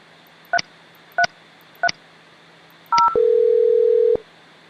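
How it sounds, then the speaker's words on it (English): A Mitel 5320 IP phone sends three short, evenly spaced dialing beeps, then a slightly longer dual tone followed by a sustained steady tone lasting about a second, clear and close against a quiet background. "Dial the warehouse phone number"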